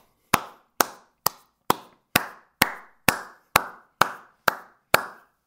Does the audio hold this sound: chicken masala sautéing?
no